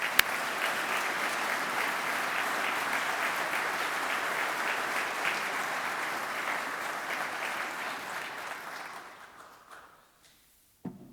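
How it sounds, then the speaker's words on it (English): Sustained applause from the crowd at a police chief swearing-in ceremony, honouring officers and their families, a steady dense roar of clapping lasting several seconds before tapering off and falling silent. "I want a round of applause for them."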